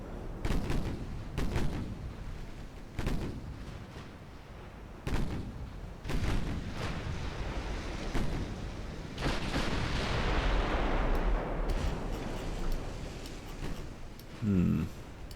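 Warship secondary guns firing in a naval video game, a series of deep booming shots at irregular intervals with rumbling echoes and a rising roar, loud and fairly close.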